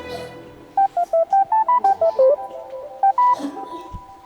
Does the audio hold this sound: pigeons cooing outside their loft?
no